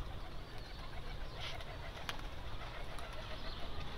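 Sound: pigeons cooing in their pen

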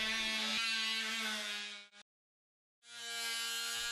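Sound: Worx Sonicrafter multi-tool flush-sawing wood

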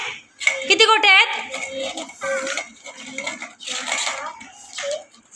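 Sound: marbles clinking on a plate while a child counts

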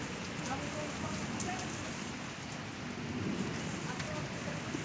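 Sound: hail falling

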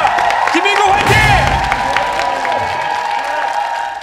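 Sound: audience cheering and applauding for contestant

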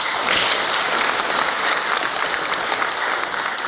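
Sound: audience applause for PRC chairperson

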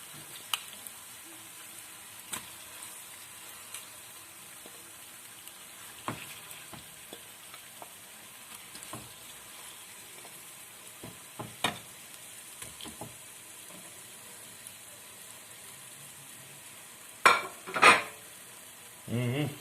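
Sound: searing turkey with red onion in a pan

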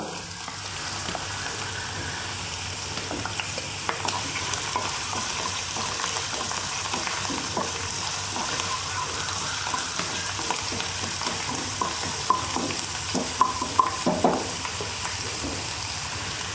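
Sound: ginger and garlic frying in oil while being stirred

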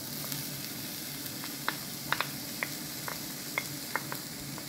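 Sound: chopped onion sizzling as it is placed in the pan

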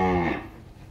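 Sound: cattle mooing

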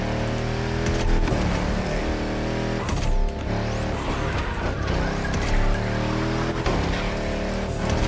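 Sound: car drifting sideways with tire squeal, video game The Crew Motorfest

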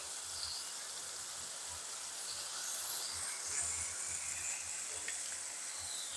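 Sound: ginger and garlic paste frying in oil

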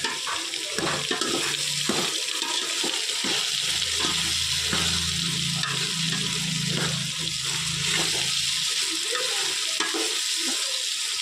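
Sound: mixed vegetables, beans and potatoes frying in oil

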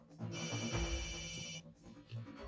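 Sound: mobile phone ringtone

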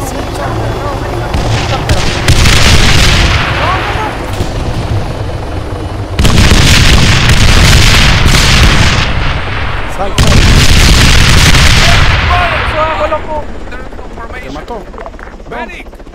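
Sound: aircraft crashing in the video game Arma 3

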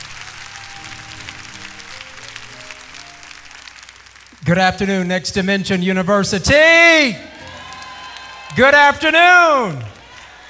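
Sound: audience applause at university commencement

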